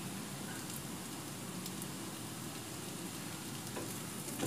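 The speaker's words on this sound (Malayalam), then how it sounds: "ഇത് നല്ലപോലെ വഴറ്റി ചെറിയ ഉള്ളി നല്ല ഗോൾഡൻ ബ്രൗൺ നിറം ആയി." Small onions sauté in hot oil in a pan, giving a steady, close, even sizzle and crackle that runs without a break and with no voices.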